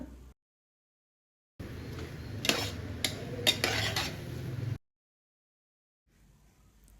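Spoon scraping and stirring vegetable biryani ingredients with barnyard millet in a metal pan, a few seconds of close clattering scrapes with several sharper knocks, between stretches of silence.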